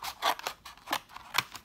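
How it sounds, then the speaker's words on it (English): Scissors snipping through folded paper to cut out a circle for a spider dream catcher craft, a run of five or six quick crisp cuts close up, with no talking. "And now you can get your scissors in"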